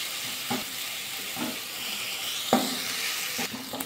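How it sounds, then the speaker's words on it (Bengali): Onion frying in a pan, a continuous close sizzle broken by a few sharp stirring scrapes and clacks at intervals, with no one talking. "আর একটু ভাজা করে নেবো পেঁয়াজটা"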